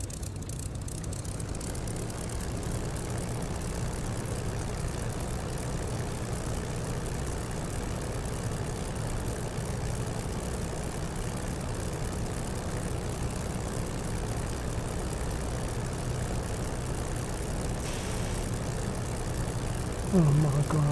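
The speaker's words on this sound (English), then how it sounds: "The drone of the engine just makes me want to go to sleep." A steady, monotonous aircraft engine drone from a flight game, a low continuous hum with no variation, holding at an even level for the whole stretch until a brief bump at the very end.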